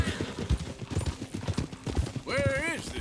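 Steady clip-clop of horse hooves at a walking pace in Red Dead Redemption 2, near and rhythmic, followed by a brief horse whinny at the end.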